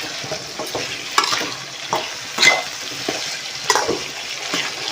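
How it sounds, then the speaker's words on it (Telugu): Salted stuffed brinjal fry is stirred in a pan, scraping spatula strokes recurring every second or so over a soft, continuous sizzle, close and fairly loud, with no voices. "ఇప్పుడు మొత్తం కలిసే విధంగా కలుపుకొని మూత పెట్టేసుకోవాలి"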